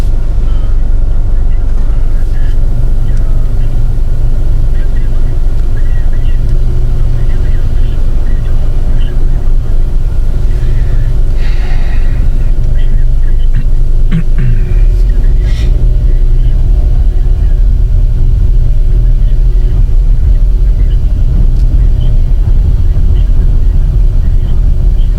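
Inside a moving taxi, a steady low road and engine rumble fills the cabin continuously, with faint occasional clicks and shifts, and no clear speech over it.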